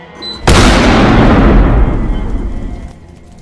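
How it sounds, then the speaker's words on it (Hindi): A single loud, sharp firecracker blast rings out from a distance, followed by a long rumbling decay that fades over a few seconds. "पटाखों की आवाज यहाँ तक आई है"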